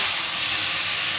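Tempering spices in hot oil in a new wok gives a steady, loud sizzling hiss that runs unbroken, with no voices over it.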